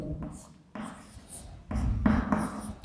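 Chalk or marker writing on a board during a math class: several scratchy strokes come in separate bursts, some short and some longer, with quiet pauses between them.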